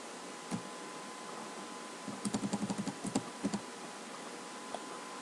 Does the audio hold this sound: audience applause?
no